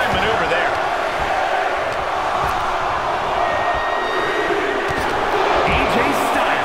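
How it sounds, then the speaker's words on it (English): A large wrestling arena crowd at the Royal Rumble roars in a loud, continuous wall of cheering, dense and unbroken throughout, with a commentator's voice mixed into the noise. "Listen to this crowd"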